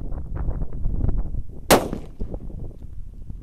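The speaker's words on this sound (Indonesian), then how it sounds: "eksperimen menyalakan banyak sekali mercon dan petasan di lubang tanah" Firecrackers set off inside a hole in the ground burst in a single sharp, loud bang, with a steady crackle and rumble of other fireworks before and after it.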